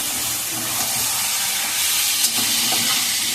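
Bone-in free-range country chicken with eggs sizzling steadily while being stir-fried in a pan, a constant close hiss of frying with faint scraping of stirring.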